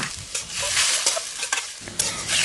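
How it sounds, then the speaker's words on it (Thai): Bean sprouts with pig blood stir-fried in a pan over medium heat, loud sizzling with repeated scraping strokes of a spatula against the pan, close and with no talking. "เราใส่เลือดหมูลงไป จากนั้นก็ผัดสักเล็กน้อยค่ะ"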